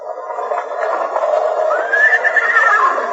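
A horse whinnies with a rising, quavering neigh that swells louder in the second half, heard close and alone, in a 1952 Lone Ranger radio drama.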